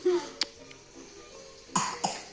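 A little girl with a cold coughs a few times in short, sharp bursts, close and fairly quiet, with brief pauses between them and no talking.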